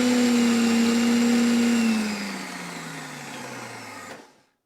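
A Magimix Cook Expert food processor whirs loudly as it chops anchovy and garlic, with a steady motor drone that drops in pitch partway through and then stops abruptly.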